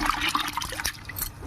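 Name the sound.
water poured onto soaked sorghum grains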